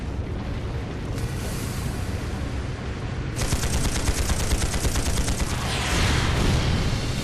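Tanks firing in a battle at a fortress military training ground in Trails of Cold Steel, heard as a continuous loud barrage of rapid gunfire and booming blasts that swells and intensifies partway through, with no talking.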